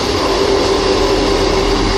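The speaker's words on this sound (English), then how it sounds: "The train arriving at platform 2 is the 1655 service to Glenrothes with Thornton." A Class 158 diesel train arrives at an Edinburgh Gateway platform, a loud, steady rumble with a sustained engine whine held close and constant throughout.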